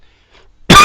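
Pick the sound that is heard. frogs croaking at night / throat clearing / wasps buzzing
throat clearing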